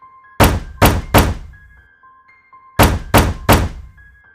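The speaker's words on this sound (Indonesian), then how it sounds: "tiba-tiba terdengar suara ketukan di pintu rumah Lucky" Knocks on a house door for a horror story: two sets of three firm, hollow raps, loud and close, separated by a pause, with a faint tonal drone between them.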